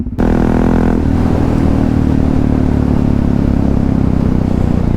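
A Yamaha MT03 660 motorcycle starts and runs, its single-cylinder engine and exhaust giving a loud, close, steady thumping throb, with no talk.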